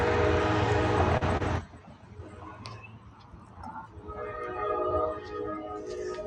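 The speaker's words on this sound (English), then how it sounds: "Oh man, the train's about to be passing by right now." A train rolls past outdoors, a loud horn-like blast opening the clip before cutting off, followed by a quieter rumbling of rail cars continuing underneath.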